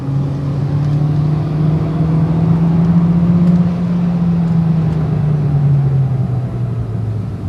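A car with an automatic transmission accelerates at full throttle, its engine drone rising steadily and smoothly without any break from a gear change, loud and close with no talk.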